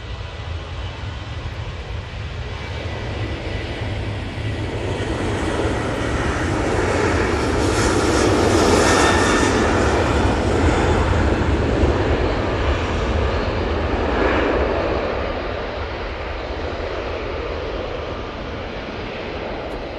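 Ryanair Boeing 737-800 departing Manchester Airport, a loud jet roar that swells to a peak midway and then slowly fades, with a deep rumble beneath and no voices.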